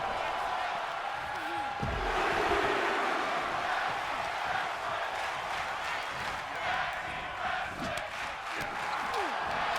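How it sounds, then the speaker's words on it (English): A video game arena crowd in WWE 2K23 roars and chants for tag team wrestling, a dense, continuous wash of many voices with occasional thuds from the ring underneath. "The crowd's chanting tag team wrestling."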